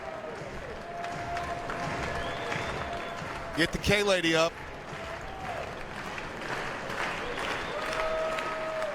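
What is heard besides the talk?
baseball stadium crowd cheering with two outs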